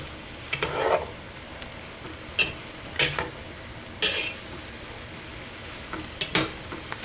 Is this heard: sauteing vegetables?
yes